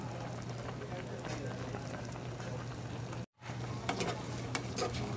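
Eel adobo in coconut milk simmers in a pan to reduce its broth, with a steady bubbling boil and occasional stirring scrapes, briefly cut out once, while someone talks over it.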